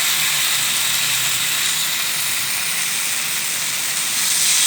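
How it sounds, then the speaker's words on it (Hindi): Chicken steaks frying in a pan give off a continuous, loud, even sizzle, a steady hiss with no breaks and no voices. "ये हमने स्टेक पैन में रख दिया फ्राई होने के लिए।"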